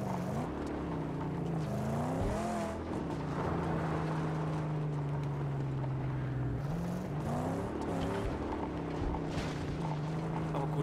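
Vehicle driving in the Mad Max video game, an engine droning steadily with repeated rising and falling rev sweeps as it accelerates and shifts, loud and continuous without speech.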